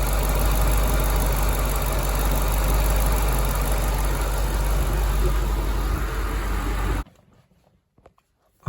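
An Alfa Romeo car engine idles steadily and loudly with a low, even rumble for several seconds, then cuts off abruptly, leaving near silence and a faint click.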